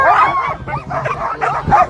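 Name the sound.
sled dogs barking at race start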